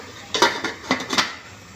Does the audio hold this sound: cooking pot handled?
yes